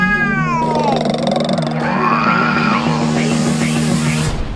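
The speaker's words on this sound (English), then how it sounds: "Chloe, you're purring." Cartoon cat purring and meowing in an animated film, a continuous purring drone under rising and falling meow-like tones, close and loud with a busy, layered soundtrack throughout.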